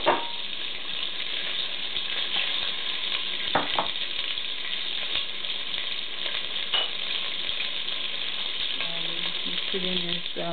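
One pound of pork sizzles in sesame oil in a pan for Korean kimchi jjigae, a steady close crackle and hiss with occasional stirring scrapes and clinks.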